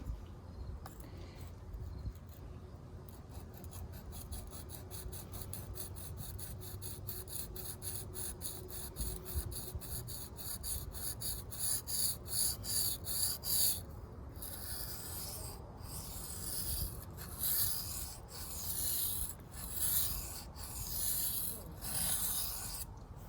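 A Kershaw Trace knife being sharpened with quick, rhythmic rasping strokes against a stone, fast at first and then in slower, separate passes. The scraping is close and moderately loud, with no talking.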